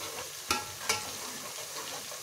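Garlic and ginger masala sizzling in oil for an aloo baingan dish, a continuous soft frying hiss with two distinct scraping stirs near the start, close and fairly quiet.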